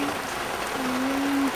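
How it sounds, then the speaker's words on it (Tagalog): Steady rain falls as a continuous, even hiss of drops, with a faint tonal hum running under it. "Tuloy-tuloy ang ulan."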